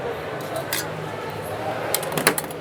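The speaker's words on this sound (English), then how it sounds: "Just make sure I get the right pan on." A metal pan is set onto a stove in a busy kitchen during a crab ravioli and citrus bisque cooking demo, with a few light metallic clanks near the end over low background noise.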